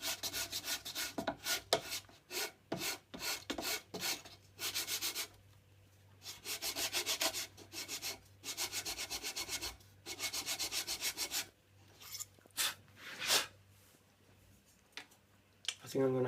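Sandpaper rubs a wooden rosette for a classical guitar in close, rhythmic back-and-forth strokes, fast at first, then in longer passes with brief pauses, while someone talks now and then.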